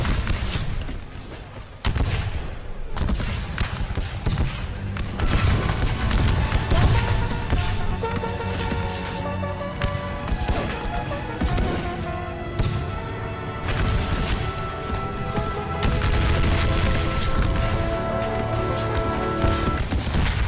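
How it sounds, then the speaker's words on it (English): Massed rifle volleys and artillery booms from a Total War Civil War battle game depicting Fredericksburg, 1862, a dense continuous din of gunfire layered over a steady music bed, with no clear isolated shots. "The battlefield echoes with the sounds of gunfire and the cries of the wounded."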